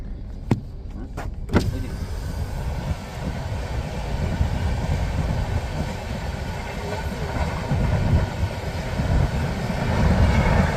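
A train passes a closed level crossing, heard as a steady rumbling roar that slowly builds over ten seconds, with a few sharp clicks near the start. It is fairly loud and close, with no talking.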